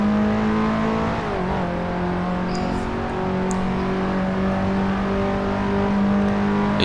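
Engine of a drifting car in the Assetto Corsa racing game, a steady loud droning whine that holds and shifts pitch continuously throughout, with tyre noise underneath and no talking.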